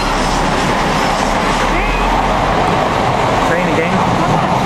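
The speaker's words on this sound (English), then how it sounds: "Train again." A passing train gives a loud, continuous rumble and roar, steady throughout with no breaks.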